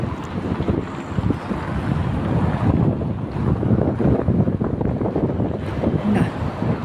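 Steady, blustery wind rushing across the microphone, with gusts that rise and fall throughout and no talking.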